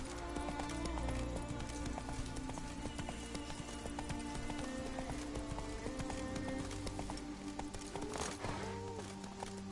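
A horse gallops in The Witcher 3 video game, its hooves drumming in a rapid, steady clip-clop rhythm, close and prominent throughout with game sounds beneath.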